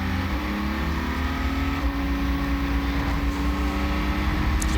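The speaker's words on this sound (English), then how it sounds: "It's amazing how quiet this car is when you listen to these onboards." Onboard a quiet sports prototype race car at Road America, a steady low engine hum and drivetrain whine drone continuously, with a subtle pitch shift as the car accelerates, wind rush filling the background.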